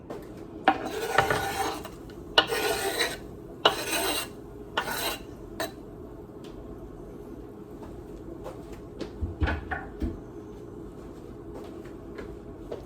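Chopped vegetables for borscht clatter into a metal pot in a home kitchen, several quick bursts of scraping and clanking in the first half, then scattered lighter knocks and taps.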